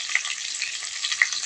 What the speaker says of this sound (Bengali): অল্প করে লবণ হলুদ দিয়ে আলুটা ভালো করে ভেজে নেব